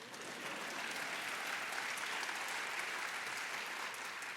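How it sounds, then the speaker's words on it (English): An audience at a keynote lecture breaks into sustained applause, a dense, even roar of many hands clapping that holds steady for several seconds without talk. "Y'all can clap for that."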